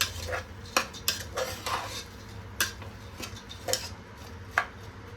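A spoon stirs sprouted field beans in a pan of tempering, giving a series of sharp metallic clinks and scrapes at uneven intervals, fairly close with no talk.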